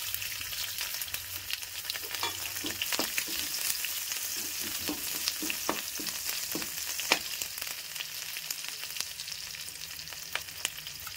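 Chopped green chilli and garlic fry in hot oil with curry leaves for Chicken 65, giving a steady soft sizzle with scattered pops and stirring clicks, close up and with no voices.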